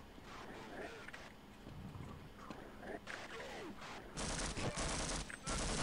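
Gunfire aimed at the player in Half-Life crackles in scattered bursts, growing into denser rapid volleys toward the end, mixed with faint game effects at moderate distance.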